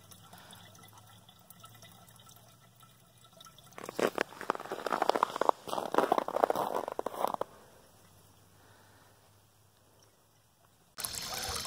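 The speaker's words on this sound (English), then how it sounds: "You can see that the water is constantly moving." Water trickles and gurgles through a self-cleaning backyard duck pond, a soft steady flow that swells into louder bubbling splashes midway, then settles back to a quiet trickle before a sudden burst of noise at the end.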